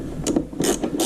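Ratchet tightening the last 10 mm bolt on a 2005 Honda Metropolitan scooter, a few quick close clicking pawl strokes in a short burst.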